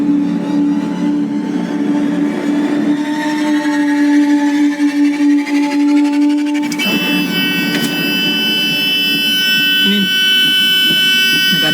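A parked car's alarm sounds a steady, sustained electronic tone that shifts to a higher, harsher pitch partway through, with people talking in the background.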